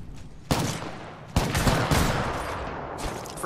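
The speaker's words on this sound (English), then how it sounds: "Taking fire, friends." Video game gunfire in a looting shooter match: a sharp burst at half a second, then a heavier sustained volley from about 1.4 seconds, with another burst near the end, loud and broadband with no talk.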